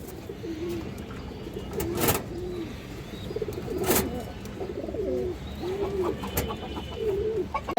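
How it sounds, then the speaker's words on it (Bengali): Pigeons coo repeatedly in soft rolling phrases close by, including a female white army pigeon from a flying breed, with a few louder flutters or knocks and light background noise. "এটা পাল্লা লাইনের একটা মাদি কবুতর"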